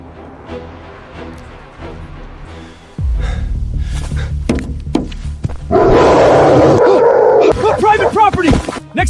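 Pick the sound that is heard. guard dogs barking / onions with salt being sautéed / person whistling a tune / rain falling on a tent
guard dogs barking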